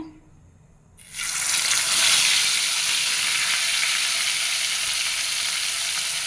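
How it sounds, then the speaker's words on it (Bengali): Tilapia fish and fish head dropped into hot oil in a wok, bursting from a quiet start into a loud, steady, close sizzle that holds for several seconds with no talking. "তেলাপিয়া মাছ আর মাছের মাথাটা ভালো করে ভেজে নেব"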